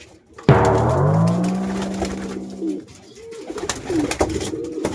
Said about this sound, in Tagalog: Papuntahin natin yung mga kalapate. Puntahin natin. Puntahin natin sa paliguan.